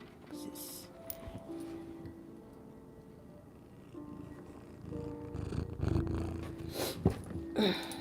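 A pet cat purrs steadily and softly at close range for several seconds, with faint rustling and background noise underneath.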